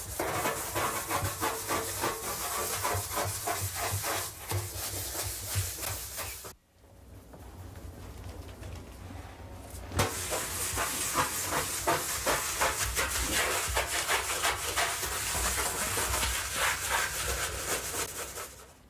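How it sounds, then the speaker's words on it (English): A tile brush scrubs a bathtub coated in Comet cleanser, making a loud, rough, rhythmic rasping that runs steadily, pauses briefly, then resumes with vigor. "Now let's scrub."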